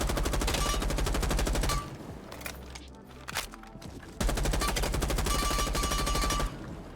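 An F90 rifle fires in Rainbow Six Siege in two long, loud rapid-fire bursts separated by a brief quieter pause with a few scattered shots and clicks.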